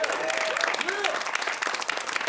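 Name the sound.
comedy club audience applause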